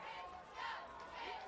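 A football crowd at a college championship game cheering and shouting steadily in the distance, faint and continuous.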